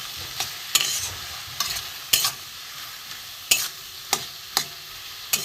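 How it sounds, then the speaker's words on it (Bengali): Spices with salt, turmeric, green chili, cumin and coriander paste sauté in a pan for a chal kumro dish with hilsa fish head, a soft sizzle under irregular spatula scrapes and knocks against the pan, close up with no voices. "একটু ভালো করে কষিয়ে নেব।"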